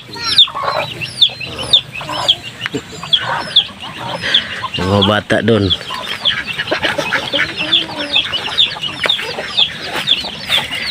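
Hens cluck and chicks peep in a busy barnyard chorus, close and lively, with a person briefly speaking amid the birds.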